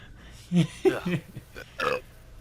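A person's burp, a few croaky throaty belches in quick succession, close and fairly loud against a quiet background.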